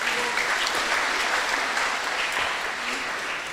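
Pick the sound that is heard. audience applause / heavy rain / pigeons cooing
audience applause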